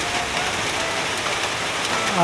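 Steady rain falls on a road during a drive back to town, a dense broadband hiss filling the whole stretch at constant loudness.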